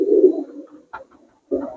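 A high flyer pigeon of the donafata lineage coos at close range in a home loft, giving a low throaty phrase, a short pause, a brief sharper note, then another rolling coo.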